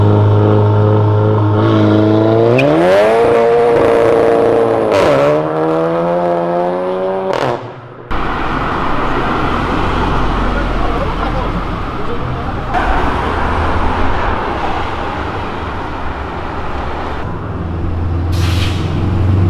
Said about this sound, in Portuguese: voltou e ainda acelerou